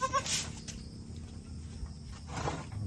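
A goat bleats once near the start, a short nasal cry, followed by quiet rustling and low background hum.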